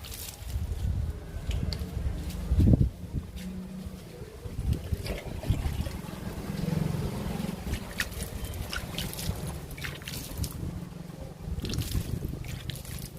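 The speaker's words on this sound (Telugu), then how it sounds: "దుమ్ము మొత్తం పోయేటట్టు నీళ్ళు చల్లండి." Water sprayed over indoor houseplants to wash off dust, heard as a series of soft hissing, splashing bursts with trickling in between against a low background hum.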